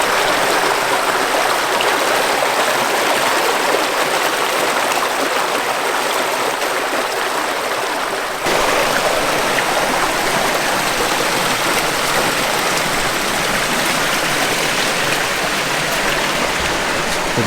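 Waterfall tumbling inside a rock quarry at a botanical garden, a loud, steady rushing wash of water heard close and continuous, with no voices.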